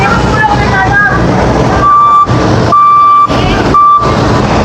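Garbage truck reversing alarm beeps in a steady on-off pattern, several long tones spaced evenly over a heavy engine rumble and street noise, with someone talking throughout.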